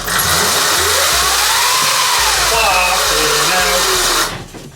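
A modified Funbike MXR1500 electric bike upgraded to 5000 watts runs its motor in high speed mode, giving a loud, steady whine with wavering, rising and falling pitch for about four seconds before cutting off abruptly.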